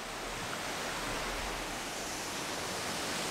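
A waterfall roars in a steady, broadband rush, a constant wash of falling water with no voices.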